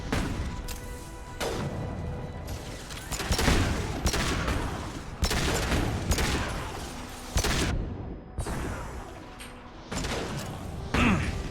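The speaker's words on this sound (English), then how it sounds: "Firing a high-impact shot!" High-impact gunshots in the video game Space Koboy, a run of loud, sharp blasts in rapid bursts with brief gaps between volleys, each shot ending in a booming tail.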